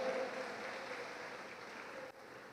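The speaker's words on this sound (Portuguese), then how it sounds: "Dê um aplauso bem forte a Jesus" A church congregation applauds during a sermon on finances, soft distant continuous clapping with a faint tonal hum underneath, dropping off suddenly near the end.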